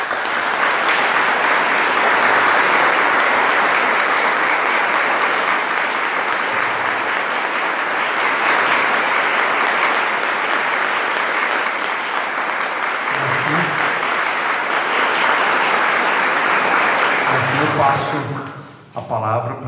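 A large audience at a seminary rectorate inauguration in a Catholic diocese in Mogi das Cruzes gives loud, sustained applause in thanks for nearly twenty seconds, dense and even, then dies away as a voice comes in.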